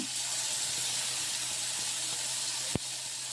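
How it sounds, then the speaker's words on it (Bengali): Prawns sizzle steadily in hot oil, a soft constant hiss, with one brief sharp knock near the end. "আবারও দিয়ে দিলাম চিংড়ি মাছগুলো সুন্দর করে ভেজে নেব"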